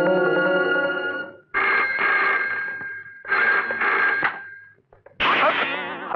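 A red telephone rings in a Hindi action film, loud bursts of bell ringing repeated about three times with short gaps between them.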